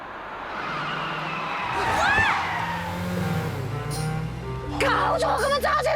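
A car driven recklessly on a road, engine revving and surging close by, with a sweeping pass and tire noise, as a voice speaks over it near the end.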